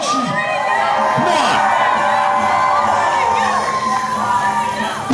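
Wrestling arena crowd cheering for Mario during a grudge match, a loud, steady roar of shouts, whoops and high-pitched yells that fills the whole stretch without a break.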